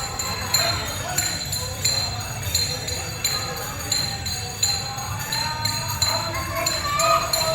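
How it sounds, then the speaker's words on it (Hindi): Conch shells and ringing bells sound in the background of a Shivaratri evening aarti, with repeated metallic clinks and bell strikes throughout under a person talking close by. "देख रहे होंगे पीछे शंख की और घंटियों की आवाज़ आ रही है"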